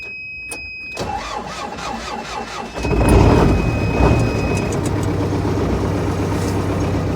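A vehicle engine cranks and catches, then settles into a steady idle, loud and close, with a faint electronic tone at the start.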